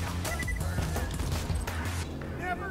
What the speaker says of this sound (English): Oh, they're lobbing grenades.